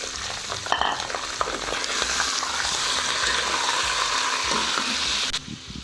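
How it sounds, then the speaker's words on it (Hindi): Chicken pieces sizzling and frying in a pan of golden-brown onions for a chicken yakhni pulao, a steady loud crackle with stirring scrapes, then a sudden drop near the end. "तो इसको हम गोल्डन करते हैं, गोल्डन ब्राउन करेंगे। इसके अंदर हम चिकन डालते हैं।"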